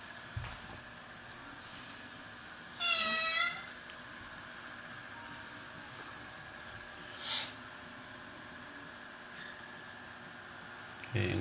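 A single fairly close cat meow breaks a quiet indoor room hum, followed later by a faint short chirp and soft background noises.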